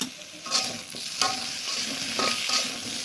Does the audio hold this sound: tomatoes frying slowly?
yes